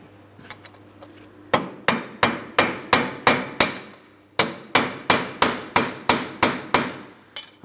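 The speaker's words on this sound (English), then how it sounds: "we need to use a hammer and a punch. The punch is going to go directly in the center of the axle. Now we're going to tap on this." A hammer taps a punch set in the center of a 2003-2007 Cadillac CTS rear axle to drive it free of the wheel bearing, giving two sharp, evenly spaced runs of metallic strikes with a brief pause between them.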